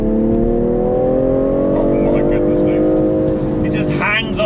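BMW M340i xDrive Touring straight-six revving as it accelerates through sport-mode gears, a rising engine note climbing steadily and loudly, with someone talking over it and a brief shift near the end.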